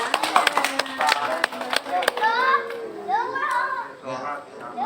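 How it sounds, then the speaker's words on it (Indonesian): An audience at a children's magic show claps in quick, scattered bursts indoors, with children's voices chattering and a presenter talking over the applause. "Tepuk tangan lagi."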